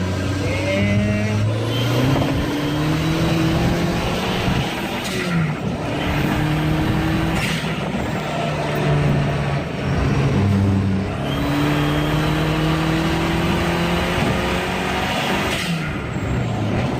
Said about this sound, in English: here's a better highway pull for you. Going up the interstate exit, third gear.